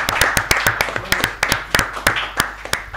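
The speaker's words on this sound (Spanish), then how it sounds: "Con un aplauso, por favor." Studio audience clapping to welcome a guest on a Twitch talk show, a loose rhythm of sharp, close handclaps spaced across the moment, fairly loud with no talk over it.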